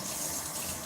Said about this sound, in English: I wasn't sure if the faucet was too loud